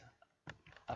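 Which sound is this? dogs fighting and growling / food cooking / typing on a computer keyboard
typing on a computer keyboard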